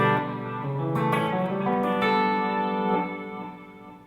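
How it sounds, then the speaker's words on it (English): Electric guitar played through a small multi-delay pedal on a creamy, ballad-style delay setting, sustained notes ringing with soft repeats that swell and then fade out. "the third delay in this little pedal is a nice creamy delay for like ballads"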